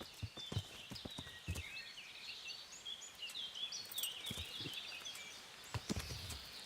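Horse hooves clop in Kingdom Come: Deliverance, uneven thuds scattered across the span over a bed of chirping birds and faint outdoor ambience, with no talking.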